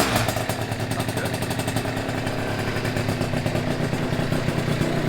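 A rough beach bike motorcycle, fitted with a factory airbox, runs on its very first start: a loud, close, rapid pulsing engine idle with clattery rhythm, steady throughout, with no speech.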